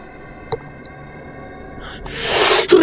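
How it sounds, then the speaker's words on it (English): A single close sneeze bursts out loudly at the end, preceded by a short intake of breath, over a low, steady electronic hum. "I had to get that sneeze out"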